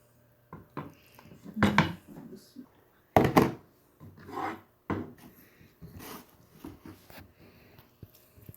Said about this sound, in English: let's chop up this liver.